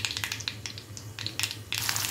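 Onion dropped into hot oil after mustard seeds have popped, for a ridge gourd curry, giving a crackling, spitting sizzle that swells louder toward the end over a low steady hum.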